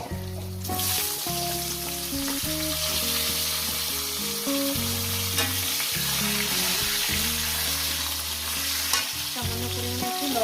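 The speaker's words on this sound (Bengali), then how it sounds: "আলুগুলো ভেজে নেব লাল লাল করে" Oil sizzles steadily as potatoes fry until red, the hiss running the whole time beneath loud, melodic background music.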